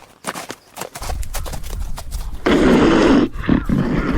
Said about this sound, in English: That horse, as it comes by, Vince.